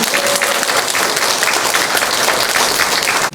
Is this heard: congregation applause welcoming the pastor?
yes